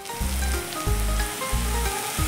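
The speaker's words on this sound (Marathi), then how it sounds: "आपला कांदा आणि टॅमॅटो छान असे परतून घेऊया" Onion and tomato sauté with a pinch of salt in a pan for a traditional Maharashtrian Bhogi vegetable dish, giving a steady close sizzle broken by soft, rhythmic scraping strokes roughly every second.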